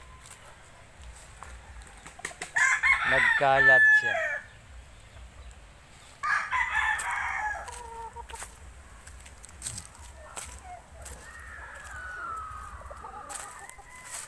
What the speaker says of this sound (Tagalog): Dito sa paligid dito marami talaga mga manok na alaga pansabong.